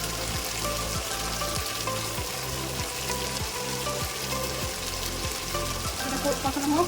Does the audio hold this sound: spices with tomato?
yes